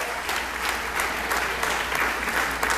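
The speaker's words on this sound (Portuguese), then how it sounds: "Você pode aplaudir o nome do Senhor?" A church congregation claps during a sermon in a short, dense burst of applause that holds steady throughout, loud and close, with no talk over it.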